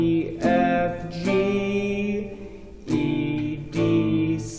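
Acoustic guitar down strums of The Iron Rod hymn, four ringing chords struck at a slow, even pace, each left to decay, close and alone.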